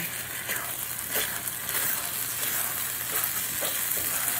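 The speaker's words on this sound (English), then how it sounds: "So just gonna mix this up, cook it down, try and break up all that meat." Ground beef with taco seasoning frying in a pan, stirred and broken up with a small GSI outdoor spatula: steady close sizzle with scraping and clicking stir strokes throughout, no voices.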